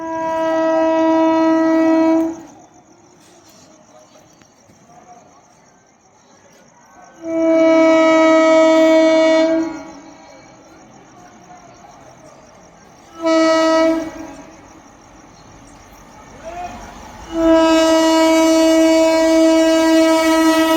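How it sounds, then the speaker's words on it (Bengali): The Hazarduari Express thunders through a station at high speed at night, loud wheel roar and rattling carriages broken by several long, blaring horn blasts that swell and cut out repeatedly. "আর সামনে দিয়ে আছে train number 13114 Lalgola Kolkata Hazarduari express"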